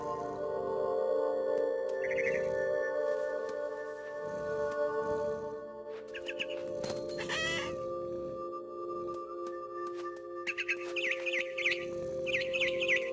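Birds chirp and tweet in short repeated bursts high in a big tree in the video game What Remains of Edith Finch, clear and fairly close over a steady ambient background, with no talking.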